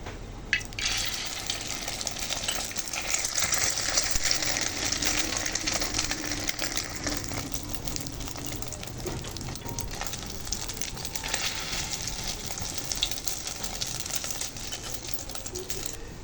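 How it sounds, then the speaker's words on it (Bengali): Chicken noodle pakoras fry in hot oil in a wok, a steady, bright sizzle that crackles continuously up close without pause and with no one talking. "এখন আমি পকোড়াগুলো ভাজবো।"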